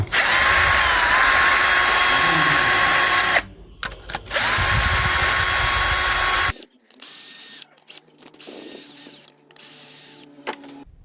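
A power screwdriver whirs loudly in long bursts removing stripped-head bolts from a diesel engine's oil pan, then stops, followed by shorter quieter spurts and clicks as the driver starts and stops.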